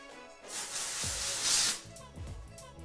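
A steady hiss of a dry shampoo aerosol can spraying into hair from far away for about a second or two, fairly close, followed by softer rustling and brief bursts.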